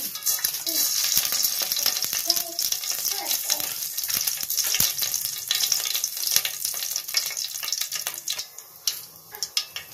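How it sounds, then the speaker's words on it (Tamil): Mustard seeds and urad dal frying in hot oil for a tamarind kuzhambu: dense, loud crackling and sharp popping spatter continuously, with scattered louder pops easing toward the end. "இப்போ எண்ணெய் சூடாயிடுச்சு. கடுகு சேர்த்துடலாம். கடுகு உளுந்தம் பருப்பு,"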